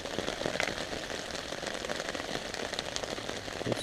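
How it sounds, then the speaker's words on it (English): Rain falls steadily during a hunting trip, a dense continuous patter with scattered sharper drops tapping close by, and no voices. "It's still raining."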